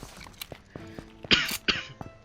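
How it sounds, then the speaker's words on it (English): A person coughs a few times in quick succession, close and fairly soft, with a short throat-clearing sound before the louder final coughs. "Sorry for the cough."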